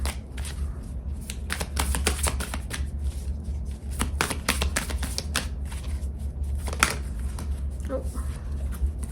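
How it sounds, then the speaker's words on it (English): Moonology oracle cards being shuffled and pulled, a run of crisp flicking and riffling bursts with short gaps between, close up, while a person talks throughout. "I'm going to pull some Moonology cards"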